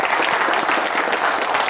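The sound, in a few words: audience applause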